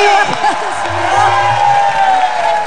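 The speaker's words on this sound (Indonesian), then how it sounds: "tepuk tangan sekali lagi untuk Warsini dan Warsiti" A television studio audience on an Indonesian talk show bursts into cheering, whoops and applause, a lively crowd roar that carries across the whole moment.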